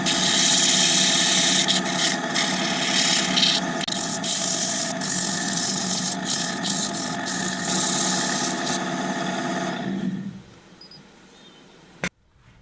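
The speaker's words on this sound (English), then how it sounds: "Let's just give it a little touch with some sanding paper." A steady whirring wood lathe with rough, abrasive sandpaper rubbing on an oak bowl runs for about ten seconds, then winds down, followed by a sharp knock.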